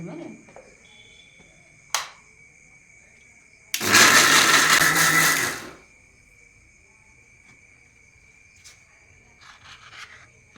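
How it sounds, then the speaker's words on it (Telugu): A mixer grinder runs for about two seconds, grinding tomato and coconut chutney in one loud, dense whirring burst. Quiet room noise and a single sharp tap surround it. "మిక్సీ వేసేసాను"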